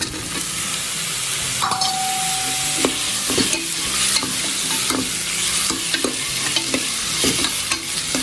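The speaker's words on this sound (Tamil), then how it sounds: "அதில் புதினா எடுத்து வச்சோம்ல அதை போட்டு வதக்கணும்" Mint and tomato being sautéed in a pan for mutton bone soup, a steady close sizzle of frying under repeated scraping and clinking strokes of a spoon stirring the pan.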